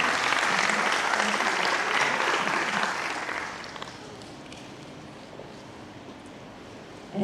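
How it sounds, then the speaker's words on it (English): Audience applause at an International Women's Day 2024 event fills the room with dense clapping for about three and a half seconds, then drops to a faint lingering patter before quiet. "That applause does not match her smile,"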